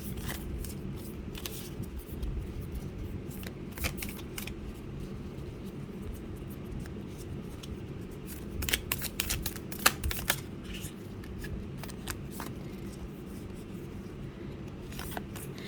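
A Disney Villains tarot deck is shuffled by hand, giving a continuous soft riffling and rubbing of cards with scattered sharper slaps, close up and fairly quiet.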